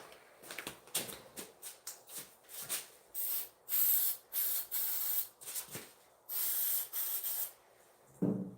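Aerosol lubricant sprayed onto a stuck part in repeated short hissing bursts, some brief and some held about a second, close and fairly quiet with gaps between.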